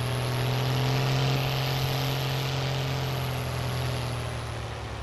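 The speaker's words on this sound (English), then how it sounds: "This tractor certainly sounds mean." A deep, steady tractor engine drone in Farming Simulator 19, with a strong low hum, running continuously and loud throughout, easing off slightly toward the end.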